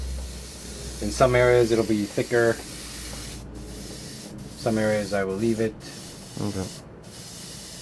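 Spray painting HG Z'gok Gundam model armor parts blue-gray, a steady airy hiss running through most of the clip with a few short breaks, heard under someone talking.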